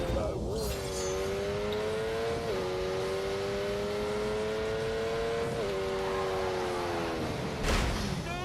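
A Lamborghini engine in The Grand Tour racing video game drones loudly and steadily, its pitch stepping up through several gear changes while a voice talks over it.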